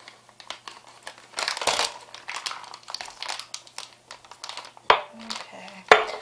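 A plastic piping bag crinkles and crackles up close as it is handled for a chocolate peppermint cake, irregular rustling bursts with a couple of sharper snaps near the end.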